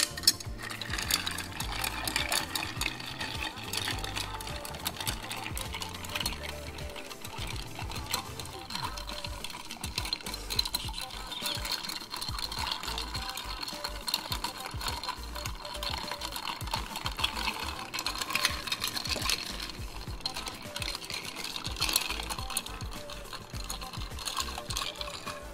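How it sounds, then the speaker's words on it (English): Ice is stirred in a cocktail mixing glass for a Boulevardier variation, producing a continuous fast rattling churn of cubes against glass that stays steady and close for the whole stretch, with no talking. "And stir it down for 20, 30 seconds."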